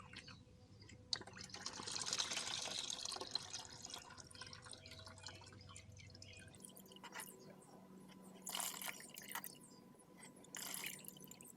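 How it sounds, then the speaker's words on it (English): Fluid dripping and trickling as a BMW F80 M3 intercooler is drained in a garage, a steady wet spatter that thins out partway through, with a few brief louder splashes later. "we're just going to take our current intercooler, which might still have a little bit of fluid in it, and just make sure it's fully drained out."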